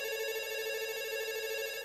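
A telephone rings during a radio call-in quiz show with a steady, electronic, buzzing tone that holds continuously at moderate to faint level, with no voices over it.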